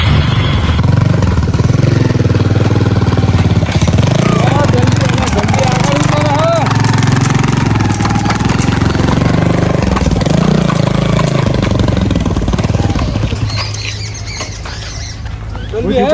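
An old, battered motorbike engine runs with a rough, low rumble that holds steady and then dips near the end, while people talk over it.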